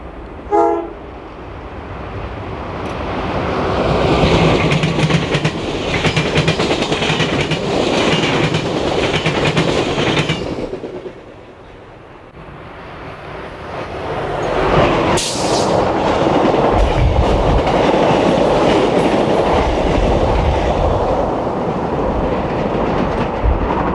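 An Amtrak Clocker passenger train on the Northeast Corridor near Princeton Junction rumbles past, loud and close, with a brief lull midway before the roar of cars resumes and continues steadily.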